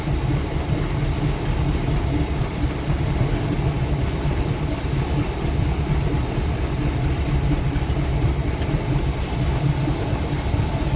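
Car engine with a Rochester Quadrajet carburetor idles during tuning, a continuous close low rumble, steady in level, with a slightly bouncy idle.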